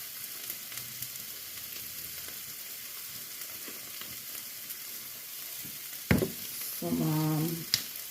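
Dumplings and beans sizzle steadily in a frying pan, a soft continuous crackle, then near the end a sharp scrape and a burst of louder stirring in the pan.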